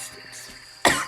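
A single sharp cough bursts out near the end, close and fairly loud, after a stretch of quiet background.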